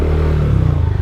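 A Honda ADV150 scooter engine runs with a steady, close low drone and a slight uneven pulse while riding along an old unpaved road.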